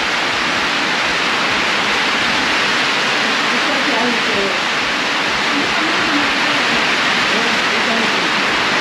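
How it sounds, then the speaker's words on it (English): Steady rain pours onto a roof in a dense, continuous hiss that fills the whole clip, loud and unbroken, with faint low rumbles and some quiet voices underneath. "the rain on the roof. Listen to that."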